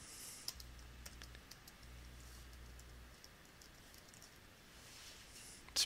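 Text typed on a computer keyboard, a quiet scattering of light clicks at irregular intervals with a faint low hum underneath and one sharper click at the end.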